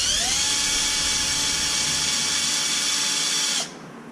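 Power drill spinning out screws from an RC car chassis, a loud steady high-pitched whine held close for over three seconds before cutting off abruptly.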